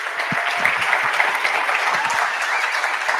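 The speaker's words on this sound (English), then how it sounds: "So if you would please give a round of applause for Stefan Livera" A conference audience at a Bitcoin event applauds steadily, a dense, even wash of clapping that holds at constant strength throughout with no voices over it.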